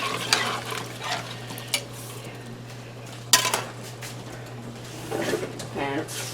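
Homemade vegetable broth poured into browned flour in a pot and stirred, with spoon scrapes and clinks against the pot, a steady low hum beneath, and a voice talking over it.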